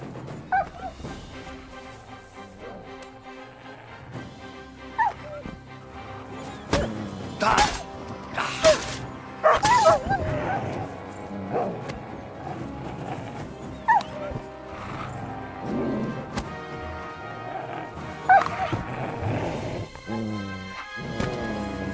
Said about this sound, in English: Someone call off that mutt!